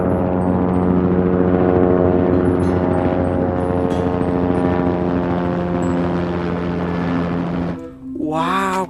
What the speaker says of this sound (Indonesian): Widih, ini ada helikopter.